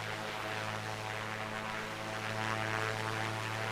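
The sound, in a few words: Piper Comanche propeller plane engine in flight simulator game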